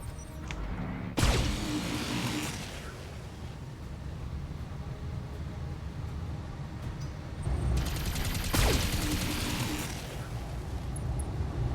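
In a BattleTech video game, enemy turrets fire at a mech, giving heavy booming blasts at two points over a continuous rumbling barrage of gunfire, loud and dense with no talk.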